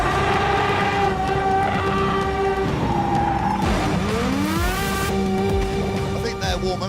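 An Aston Martin Vulcan spins its tyres to warm them, its engine giving a loud, howling, high-pitched whine that dips and then climbs sharply in pitch, with some talking underneath.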